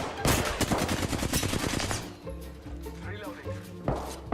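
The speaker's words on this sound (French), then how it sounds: "Ah, c'est lui qui me tire dessus!" Rapid bursts of video game shooter gunfire, played on a Nintendo Switch with Joy-Cons, crackle loud and dense for about two seconds, then give way to scattered thuds and a voice.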